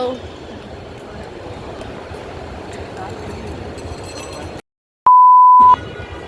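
Steady outdoor noise cuts to silence, then a single flat electronic censor beep sounds for under a second before the background returns.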